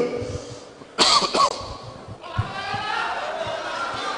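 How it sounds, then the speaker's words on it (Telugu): A sharp burst of coughing, two or three harsh hacks close by, followed by murmuring voices and background chatter. "బస్ ఎక్కువైపోయి దగ్గు వస్తుంది"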